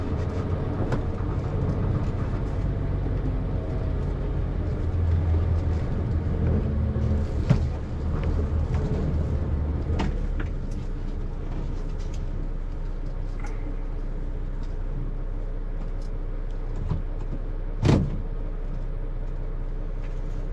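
An Isuzu FRR six-speed flatbed truck drives along with a steady, loud low-frequency engine drone and rumble throughout, with a few brief knocks and clunks near the middle and end.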